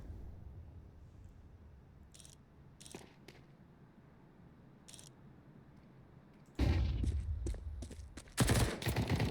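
Gunfire in a Counter-Strike 2 wingman tournament match: a few faint, scattered shots at first, then loud, close bursts of rapid fire near the end.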